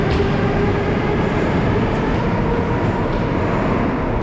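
Moscow metro train running, a steady loud broadband rumble and roar throughout with no pauses, heard from inside the moving carriage.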